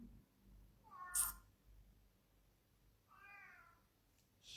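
A cat meows twice indoors, a short sharp cry followed seconds later by a softer wavering meow, close and clear against a quiet room.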